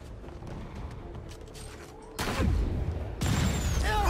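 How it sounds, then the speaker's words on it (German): Gunfire in the Marvel's Spider-Man PS4 game: faint mechanical game noise gives way to two sharp, loud shot bursts about a second apart, each trailing off into echoing rumble. "Ich bin sogar noch dem einen Schuss ausgewichen und der andere kam direkt danach."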